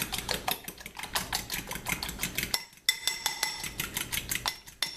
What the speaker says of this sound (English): now I like to scramble with a fork